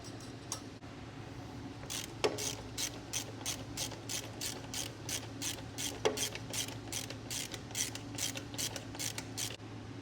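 In a boat repair shop, a ratchet wrench backs a bolt off with a long run of fast, even clicks, close and moderately loud over a low steady hum, no talking.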